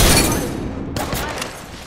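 Gunfire in an Apex Legends Season 15 match as Mad Maggie, a dense loud burst of shots that fades within a second, then a second sharper volley follows under voice.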